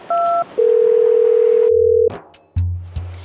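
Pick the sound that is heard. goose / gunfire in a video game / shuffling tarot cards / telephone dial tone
telephone dial tone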